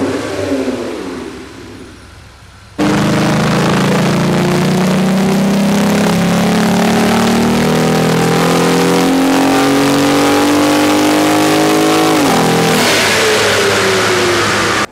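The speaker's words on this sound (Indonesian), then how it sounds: "Dan kita bisa dengar sekarang suara intake, suara exhaust, suaranya mantep." Jeep Gladiator six-cylinder engine with an upgraded intake and exhaust, starting up after a quiet moment and then revving hard and holding loud, rising and falling engine roar up close for over ten seconds before easing off.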